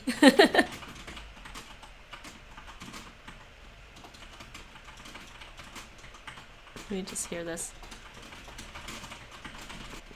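Keyboard keys clatter in quick bursts, loud at the start and then quieter and steady, with a voice speaking briefly near the end.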